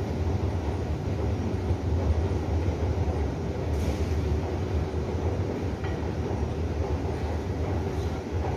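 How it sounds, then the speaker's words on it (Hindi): Metro train at a station in Qatar, a steady low rumble of the cars rolling along the track with faint rattling, moderately quiet throughout with no talking. "यहाँ पे मेट्रो की ट्रेन्स होती हैं।"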